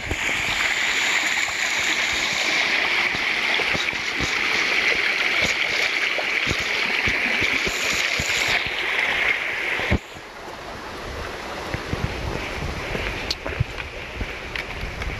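A shallow Appalachian Trail stream rushes steadily over rocks, a loud continuous wash of water that drops slightly halfway through as hikers move to cross, with faint splashes and knocks after.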